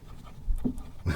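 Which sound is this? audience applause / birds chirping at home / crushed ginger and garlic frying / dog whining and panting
dog whining and panting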